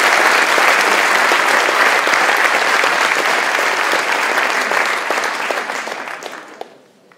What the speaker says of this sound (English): may I have a round of applause for Jan Bakelands.